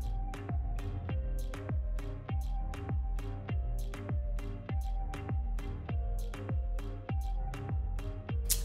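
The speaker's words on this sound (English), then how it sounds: "So now I've just rinsed off the scrub and I'm just pat drying." Water splashes onto a face while drugstore face scrub is rinsed off, as a regular series of wet slaps and splashes repeating roughly every half second, close and fairly quiet.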